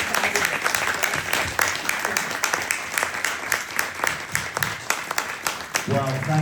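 Church audience at a Christ Church Anglican feast-day event applauding steadily with dense, continuous clapping that holds throughout, fairly close and loud.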